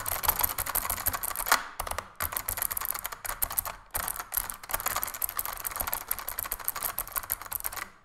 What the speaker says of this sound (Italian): la rumorosità di questa tastiera è la massima, proprio perché cerca di emulare il feel di una tastiera meccanica